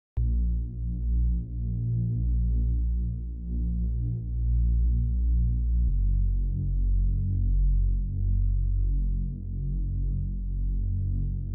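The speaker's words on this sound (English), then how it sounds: "this bass that just kind of alternates between these 2 notes" A deep, distorted synth bass rocks back and forth between two low notes in a steady, throbbing pattern, with nothing else playing.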